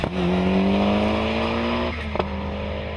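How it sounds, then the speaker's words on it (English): A Ford Escort race car at a speed hillclimb revs loud and close, its engine note climbing steadily through a gear before a brief dip and shift, with no talk. "Colin Smith brings his Escort to the line again."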